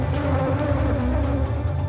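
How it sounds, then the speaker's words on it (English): Hundreds of Africanized bees swarm and pummel a veiled person outside a disturbed colony, a dense, loud, continuous angry buzzing hum close by, steady throughout with no talk. "It's a frightening experience to be inside a veil like this with hundreds of bees, and they're really pummeling me"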